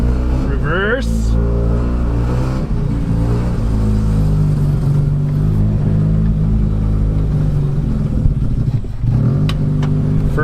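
Mazda rotary pickup truck engine with a freshly swapped 5-speed manual and Holley carburetor, rumbling loudly and steadily close by as it pulls away, with brief rev changes and someone talking over it.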